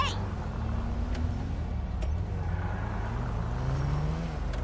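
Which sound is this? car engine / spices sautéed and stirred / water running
car engine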